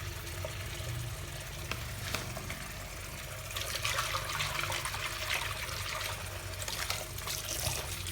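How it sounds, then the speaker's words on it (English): Hot water running steadily from a tap to soak cloth pads in Rustic Art washing powder, a continuous close splashing flow that swells louder midway, with no voices. "I'll soak all the stuff in this Rustic Art powder with hot water"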